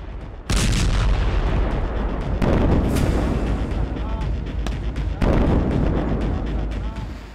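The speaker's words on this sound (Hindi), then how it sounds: "दिन के उजाले में लेबनान पर गिरी इजराइल की मिसाइल।" Israeli missile strikes hitting Lebanon in daylight: a sudden heavy blast followed by sustained loud rumbling booms with further impacts at intervals, dense and continuous, with faint voices mixed in the background.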